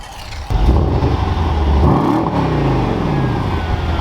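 A Mercedes-AMG E63 S wagon's 600 hp V8 blips and revs hard, its exhaust roaring loudly and rising and falling in pitch, close up with no voices.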